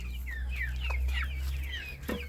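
Soft clucking and chirping from chicks, several short calls scattered over a steady low hum, fairly close.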